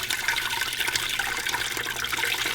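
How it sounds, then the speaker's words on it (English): Milk and cheese curds poured into a strainer, a steady close rush of splashing liquid with no pause. "So I'm gonna pour this into the strainer"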